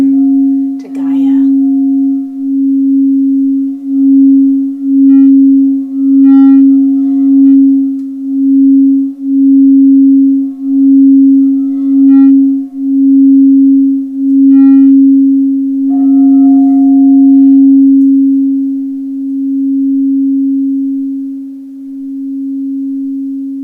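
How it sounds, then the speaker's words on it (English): A pure, steady sine tone, the 7.83 Hz Earth resonance shifted up into the audible range, pulses softly in a slow, even rhythm, with a few faint higher chimes appearing briefly over it before it fades gently toward the end. "if extrapolated up into a Hertz frequency that we can actually hear, this is what Mother Earth sounds like"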